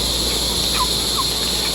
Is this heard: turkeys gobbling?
yes